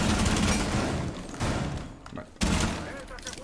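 Gunfire rattles in Rainbow Six Siege, a loud stream of rapid shots with sharp fresh bursts breaking in twice as the shooting continues.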